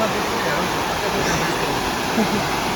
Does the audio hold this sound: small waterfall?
yes